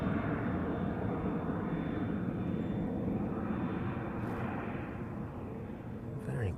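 An airliner climbs out almost directly overhead after departing East Midlands Airport, a broad steady roar of jet engines that holds loud and even throughout with no voices.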